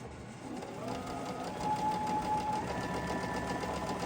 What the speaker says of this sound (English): let's go ahead and sew that